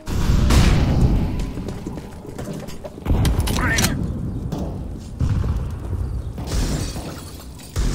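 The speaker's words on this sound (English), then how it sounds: "I'm throwing a flashbang." A flashbang grenade going off in Counter-Strike on the Inferno map, a loud thumping detonation with harsh crackle, followed by further heavy bangs and game noise while a player talks.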